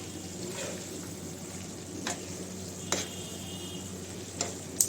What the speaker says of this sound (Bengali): এবার আমি বেগুনগুলো দিয়ে দেব ভাজা বেগুনগুলো